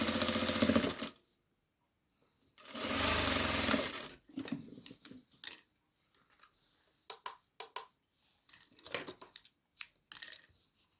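Sewing machine stitching fabric in two loud steady runs of rapid motor whir, followed by short clicks and taps of adjusting the fabric, close and otherwise quiet with no talking.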